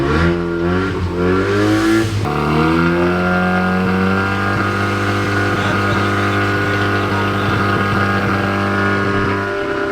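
An RX7 barn-find car engine droning at a steady idle, close and constant, after a couple of brief revs at the start.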